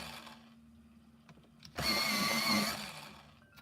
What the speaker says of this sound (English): this sharpener is a little loud